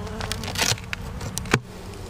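A honeybee colony buzzes steadily around a backyard hive in fall, with bees working the side of the box and carrying in pollen. The hum is close and continuous, with a few louder passes as single bees fly near.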